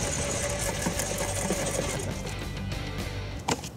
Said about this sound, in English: This silent shredder takes things at a more measured pace than the Rapid Shredder.